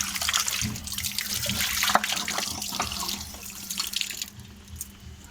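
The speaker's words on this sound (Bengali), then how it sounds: "তো মাংসগুলো ভালো করে ধুয়ে নেব।" Raw meat rinsed under a running kitchen tap, water pouring into a sink with steady splashing and trickling for several seconds, close by with no talking.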